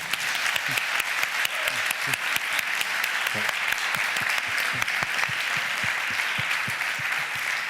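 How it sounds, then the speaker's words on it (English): An audience applauds steadily throughout, a dense wash of many hands clapping at close range with no break. "Give him a round of applause."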